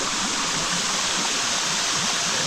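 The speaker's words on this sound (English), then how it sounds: "This is the top of the second waterfall." Steady, dense rush of a waterfall on Waiʻomaʻo Stream in Oahu, Hawaii, heard from the top of the second fall, a continuous broadband roar of falling water with no voices.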